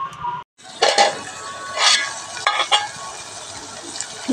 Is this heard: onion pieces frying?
yes